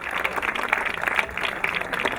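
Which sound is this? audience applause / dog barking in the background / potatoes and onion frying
audience applause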